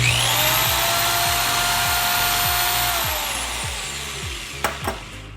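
A small lathe spins a brass bushing for a cycloid gearbox while a deburring tool touches it, giving a sustained whining ring over a rhythmic rotating thump. The whine fades as the spindle slows, then a few sharp clicks follow.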